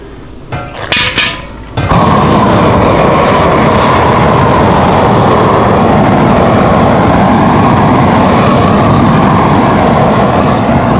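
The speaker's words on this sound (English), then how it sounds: "grab basically a torch and to loosen up the product that's stuck in here just by burning it" Torch burning hardened crack sealant loose in the valves of a crack-sealing machine, a loud, steady roaring hiss that starts abruptly after a few clanks and runs unbroken to the end.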